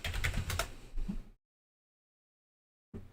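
A password is entered on a computer keyboard in quick, close clatters of keystrokes, then a stretch of silence before a few more taps.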